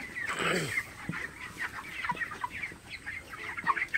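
Broiler chickens in a poultry house during hot, humid weather cluck and murmur softly and continuously at a moderate distance, with scattered short calls overlapping one another.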